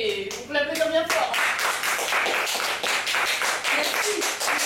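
A theatre audience breaks into sustained, dense applause at the end of a stage comedy performance, following a brief voice at the very start; the clapping stays loud and steady throughout.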